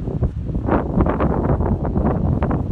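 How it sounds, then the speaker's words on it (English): Strong wind buffets the microphone at a broken lighthouse on the Scottish coast, a loud, continuous roaring rush with gusty surges throughout and no voices. "It's very windy up here."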